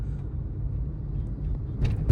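A car in motion on a road, driven in fourth gear by a learner during a driving lesson, gives a steady low engine and road rumble throughout, close and continuous, with a slight rise in noise at the very end.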